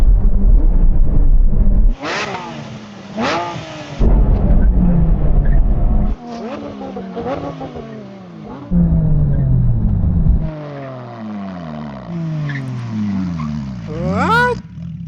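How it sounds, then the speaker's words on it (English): Several Porsche GT3 RS cars of the 996, 997, 991 and 992 generations brake hard from 100 mph, loud engine roar cutting off in bursts with falling tones as they slow, speech tagged but no clear words. "Brake test from 100 miles an hour."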